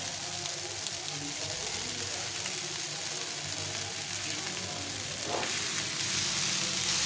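Cucumber pieces fry in a pan, producing a steady close hiss and sizzle of hot oil that swells slightly toward the end, with no talking.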